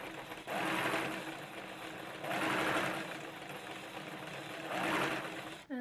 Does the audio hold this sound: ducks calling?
no